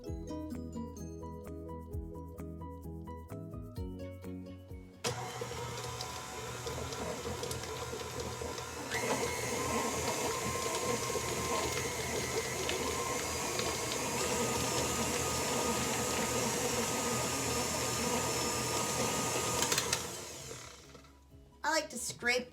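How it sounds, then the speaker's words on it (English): An electric hand mixer's beaters blend cream cheese and softened butter in a bowl for candy, giving a steady, even whirring drone that runs for most of the stretch, close and moderately loud, after a short opening of other kitchen sounds. "You're going to blend the cream cheese and the softened butter until it is creamy and well"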